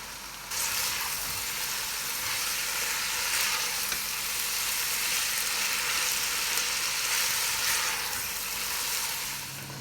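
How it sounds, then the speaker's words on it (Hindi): Garlic, ginger and onion sizzling steadily in a hot pan, a dense continuous frying hiss that stays even throughout with no voices. "थोड़ा सा फ्राई होने लगे तो हम अनियन को ऐड कर देंगे"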